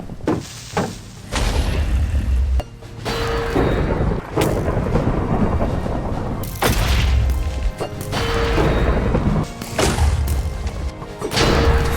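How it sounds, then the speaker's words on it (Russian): Rolling thunder crashes through a Minecraft thunderstorm, loud and booming in repeated heavy waves over steady rain noise, with sharp strikes breaking in at intervals. "Неожиданно началась гроза, а это шанс заполучить новые головы."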